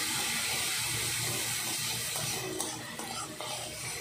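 Ginger paste and tomatoes fry in a pan for Bengali chholar dal, giving a steady, close hiss and sizzle that holds throughout and dips slightly toward the end.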